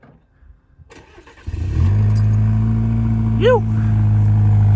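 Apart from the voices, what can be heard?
Chevy Colorado truck engine with MagnaFlow Overland Series exhaust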